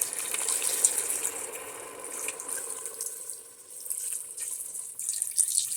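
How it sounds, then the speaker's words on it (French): Water pours steadily into a pot of vegetable soup, a close, continuous splashing rush that thins briefly midway before resuming, with no talking. "Maintenant, je vais ajouter juste ici, water."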